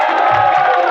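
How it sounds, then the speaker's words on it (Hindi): A dense wash of crowd noise at a political party rally, loud cheering and clapping blended into a continuous roar, with no clear individual voices standing out. "जोरदार तालियों से स्वागत करिए।"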